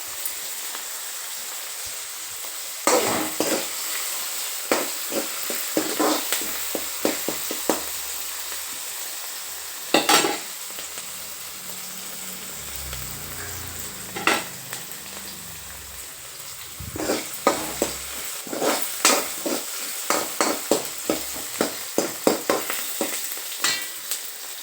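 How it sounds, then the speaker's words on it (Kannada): Green chili frying in a little oil, a faint crackling sizzle punctuated by sharp pops and spatters at irregular intervals, no voices. "ಈ ಒಂದು ಮೆಣಸಿಕಾಯಿ ಸ್ವಲ್ಪ ಎಣ್ಣೆಯಲ್ಲಿ ಕೆಂಪಗೆ ಆಗಬೇಕು."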